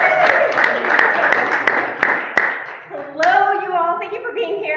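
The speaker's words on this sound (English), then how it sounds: "How about a huge round of applause for local filmmakers?" An audience at a Tacoma filmmaker meetup claps briefly, a moderate burst of hands that thins out as a voice begins speaking over the tail.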